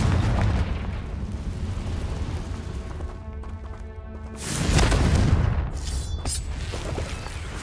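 The Confringo fire spell goes off in Hogwarts Legacy as a deep rumbling blast that swells midway through, surrounded by lower game ambience and a few fainter thumps.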